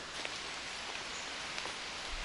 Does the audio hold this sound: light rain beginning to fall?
yes